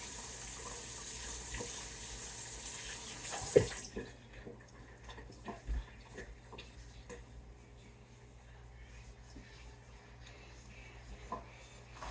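A kitchen tap runs strongly at first, a loud gush that cuts off after about four seconds, followed by quieter splashing, dripping and handling sounds at the sink.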